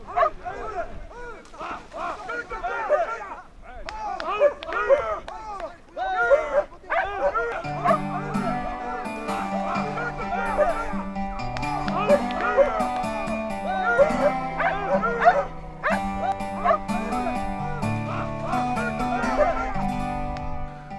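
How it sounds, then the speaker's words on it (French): Hunting dogs bark in dense, overlapping bursts as beaters shout to drive game toward the hunters during a family hunt in Tunisia, with voices mixed in, before music takes over the rest. "Porté par les aboiements des chiens mêlés aux cris des hommes"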